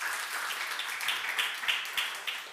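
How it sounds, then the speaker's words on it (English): An audience gives a panel a short round of applause, a brief burst of steady clapping from many hands at moderate distance that fades out within a few seconds. "please give them all a quick round of applause"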